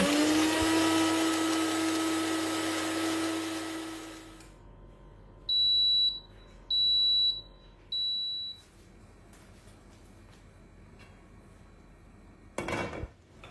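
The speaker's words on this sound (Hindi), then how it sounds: "जो एक प्याज हम लोगों ने पहले ब्राउन करके निकाले थे उसको है ना 2 टेबलस्पून दही के साथ पीस लेंगे।" An electric kitchen grinder whirs loudly, grinding fried browned onion with yogurt into a paste, then stops; three short electronic beeps and a brief clatter of the jar follow in a quiet room.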